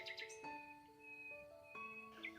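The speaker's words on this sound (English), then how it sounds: "This is a parrot." A parrot gives a short run of clear, whistled calls and chirps, bright tonal notes stepping between pitches, heard close and alone.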